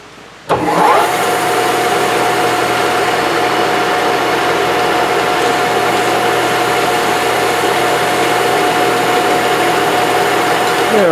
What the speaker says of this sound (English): I'm going to go ahead and chamfer this corner.